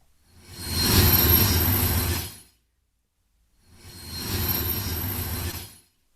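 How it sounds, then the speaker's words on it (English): A rumbling train passes in two sustained bursts, each swelling and fading, separated by a brief silence. "one of the first sounds that you hear in this piece is just the generic train sound"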